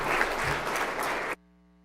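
A board of education meeting audience gives a round of applause for a school sports team, a dense burst of clapping that cuts off abruptly after just over a second.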